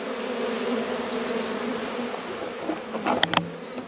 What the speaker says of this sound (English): There's loads of bees here flying.